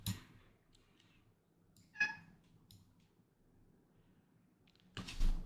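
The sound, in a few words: pet cat chirping and meowing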